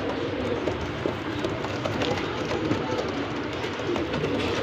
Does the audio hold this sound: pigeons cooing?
yes